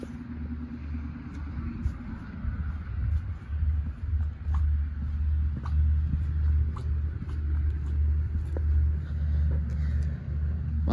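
A Thomas FS65 school bus with a CAT 3126 diesel engine idles steadily at close range, its deep, constant rumble holding throughout with faint light clicks above it.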